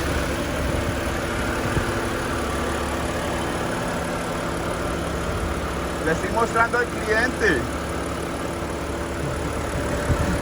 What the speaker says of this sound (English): The engine sounds pretty solid.